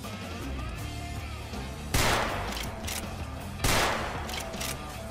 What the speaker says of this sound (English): There is also a legendary variant called Darcy, and Darcy shoots in a unique way